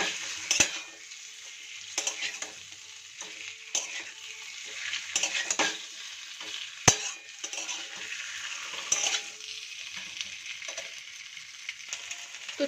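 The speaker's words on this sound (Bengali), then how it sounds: "এবার চিকেনগুলোকে হালকা একটু ফ্রাই করে নেব" Chicken pieces frying lightly in a pan, a steady bright sizzle with occasional sharp clinks and scrapes of a utensil stirring against the pan.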